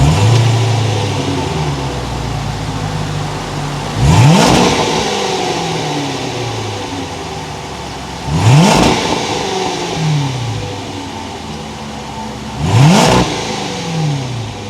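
A 2021 Range Rover Westminster Edition with a 5.0-liter engine idles loudly, then is revved three times in evenly spaced bursts, each climbing sharply and falling away, close and alone without talk.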